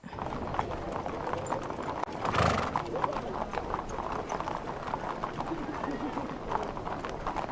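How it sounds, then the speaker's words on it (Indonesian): Massed hooves of a 70-horse cavalry escort at an official welcoming ceremony for the Australian Prime Minister in Indonesia, steady clip-clop with occasional whinnies over continuous crowd and broadcast chatter. "Tentunya juga diiringi oleh 70 pasukan berkuda."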